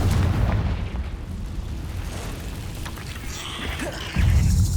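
Spell explosions from the Confringo fire curse in Hogwarts Legacy during a cave battle, with heavy low booms at the start and end and a rumbling, crackling wash of game effects in between.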